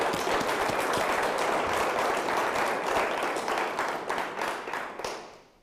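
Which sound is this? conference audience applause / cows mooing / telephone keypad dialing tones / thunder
conference audience applause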